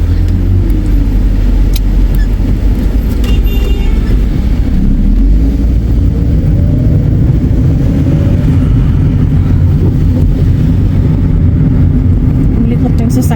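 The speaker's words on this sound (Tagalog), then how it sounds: "Ang likot ng sasakyan ito." Car engine hum heard from inside a moving vehicle, a steady loud low rumble with road noise running throughout, while people talk over it.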